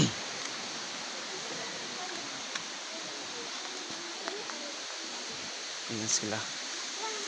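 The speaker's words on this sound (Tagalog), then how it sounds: "Ito yung parang falls." A waterfall at a campsite pours as a constant broadband roar, with a few brief voices and small knocks over the rushing water.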